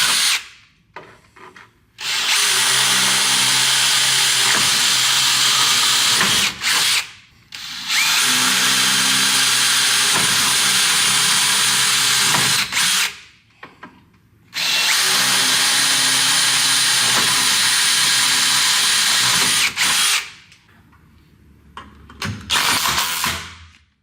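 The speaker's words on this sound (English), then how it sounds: "We're going to pre-drill holes," Power drill pre-drilling pilot holes for fasteners during a CrystaLite sunroom installation, three long loud bursts of steady whirring with brief pauses between, no talk.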